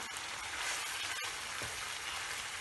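Onions frying over low heat in a pan, a steady soft sizzle running evenly throughout with a couple of small clicks, no voices.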